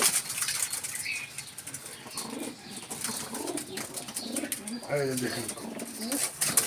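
Pigeons kept in an enclosure coo in low bursts while wings flap and rustle close by, with someone talking throughout.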